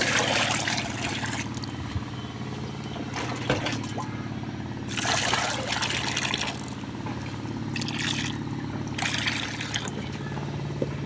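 Water poured into and mixed with homemade liquid organic fertilizer for vegetable plants, splashing and trickling in several bursts over a steady low background hum, close and moderately loud.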